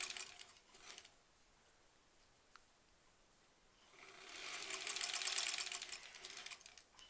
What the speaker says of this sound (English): I'm going to try and stitch right through that angle there.